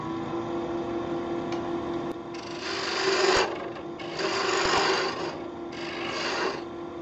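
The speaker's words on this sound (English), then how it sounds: "we're going to use a 3/8 inch bowl gouge, taking light cuts, get the speed up a little bit" A 3/8 inch bowl gouge takes light cuts on a cross-grain wooden box spinning on a wood lathe, a steady hum carrying three longer swells of scraping cut, each a second or so, with no talking.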